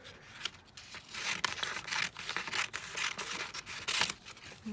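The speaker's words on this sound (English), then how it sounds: "I'm just going to trim it down slightly more" Paper being trimmed for a junk journal, heard as close, continuous scissor snips and papery rustling in an uneven rhythm, with no voices.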